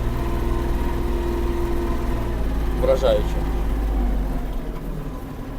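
Kubota GL-320 mini tractor engine running steadily at a low, even drone while maneuvering, close and continuous, with someone speaking briefly over it near the middle.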